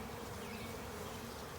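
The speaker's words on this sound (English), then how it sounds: "all these bees you see flying around, they'll have calmed down" Honeybees flying around a newly installed hive in spring, a steady dense buzzing hum from many insects close by, continuous and even throughout with no talking.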